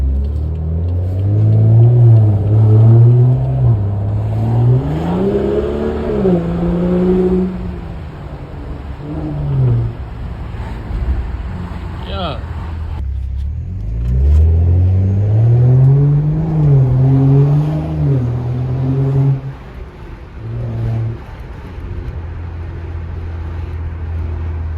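A straight-piped BMW F10 accelerates hard from a light, its loud exhaust climbing through rising revs twice with a shift in between, deep rumbling and close, with wind noise and no talk.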